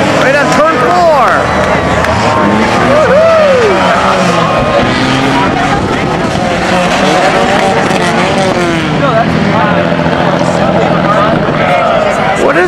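Compact enduro cars at Holland Speedway, one doing a burnout on turn four, engines revving and roaring loudly and continuously with rising and falling whines, under steady crowd noise and nearby people talking.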